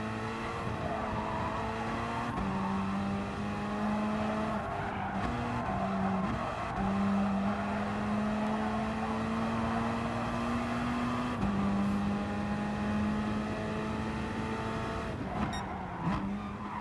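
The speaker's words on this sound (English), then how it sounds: "So very rapid onto the straights with this Corvette." Engine of a Corvette Gr.3 race car in GT Sport at Catalunya, a loud, steady drone rising in pitch through the gears with brief shift dips, tire noise underneath, continuous and close throughout.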